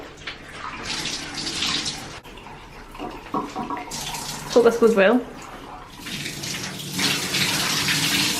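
Water streams and splashes heavily from wet, freshly dyed clothes being wrung out over a tub, coming in bursts of gushing and dripping, with people talking and exclaiming over it.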